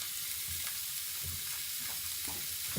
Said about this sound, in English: Now, we want it hot. You can hear it sizzle.